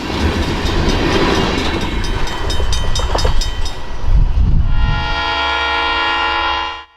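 A Great Lakes Central Railroad train led by an M3B locomotive passes northbound at track speed on a warm fall afternoon: a loud rumbling roar with wheel clatter and horn blasts, then a steady tone that fades out.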